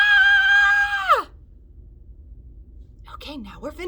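Children in an elementary school music class scream together on cue: a loud, sustained, high-pitched group cry of about a second that cuts off sharply, then near silence before a single adult voice starts talking.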